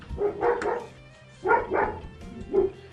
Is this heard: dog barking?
yes